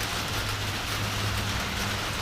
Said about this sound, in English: as soon as I got out here and started feeding, it started pouring on me again